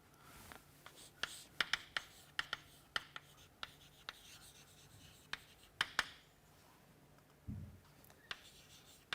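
Chalk or marker taps and short strokes on a board during a physics lecture on light, a quiet, irregular series of sharp ticks and scratches with pauses between them in a hushed room.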